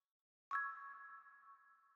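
A single strummed marimba chord from FL Studio's Mallet Flux bank, notes rolled quickly by staggered velocities, then sustaining and slowly fading, close and clean.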